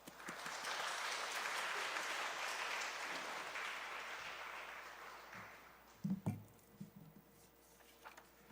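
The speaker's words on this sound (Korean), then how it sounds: "우리 목사님 나오실 때 박수로 환영하겠습니다" A church congregation at a Wednesday worship service applauds to welcome the pastor to the pulpit. The clapping is steady and fairly faint for about six seconds, then fades into a few scattered claps and room noises.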